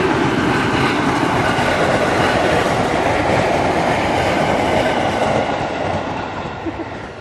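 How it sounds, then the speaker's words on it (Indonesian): A KRL commuter electric train rumbles past close by, wheels clattering steadily on the rails before the noise begins to fade away. "Lah, sepure lho, warna-warni, KRL kae jenenge."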